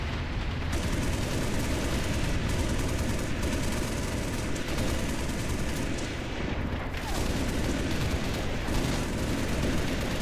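Sustained gunfire from a gun run in Halo: Reach, a dense, unbroken roar of shots and booms filling the whole stretch at steady loudness with no pauses.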